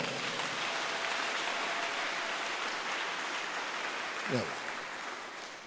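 A church congregation applauds, a dense, steady wash of clapping that continues throughout at moderate distance, with no voices standing out.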